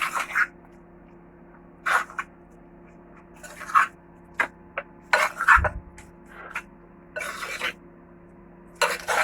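Spices being stirred into chicken BBQ rice in a pot, heard as intermittent scraping and squishing strokes at moderate level with short pauses between them.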